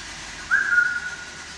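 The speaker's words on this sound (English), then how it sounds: "Is that you whistling?" A single brief, thin whistle, rising then holding its pitch for about half a second, sounds faintly over a low steady hum inside an old jail building.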